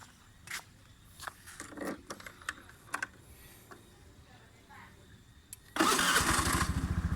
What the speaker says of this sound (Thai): นี่สตาร์ททีเดียวนะครับ นิ่มๆนนะครับผม